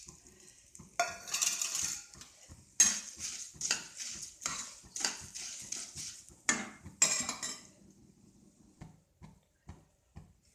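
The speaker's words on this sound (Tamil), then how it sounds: "இதை கொட்டி கலர வேண்டியதான்" Puffed rice tossed with spices in a metal vessel, giving bursts of dry rustling and scraping with clinks of a spoon against the pot, loud in uneven waves before easing to sparse taps near the end.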